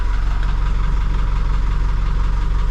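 A boat engine idles steadily up close just after starting, its low, even rumble chugging along without pause.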